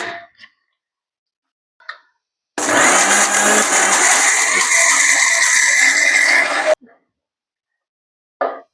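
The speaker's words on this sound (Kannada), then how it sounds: "ಇದನ್ನ ನಾನು ಮಿಕ್ಸಿ ಜಾರ್ದಾಗ ಹಾಕಿ ಸಣ್ಣ ಮಾಡ್ಕೋತೇನು" A kitchen mixer grinder jar whirs loudly as it purees cooked tomatoes into chutney, running steadily for about four seconds. Short bursts of speech come just before and after the motor runs.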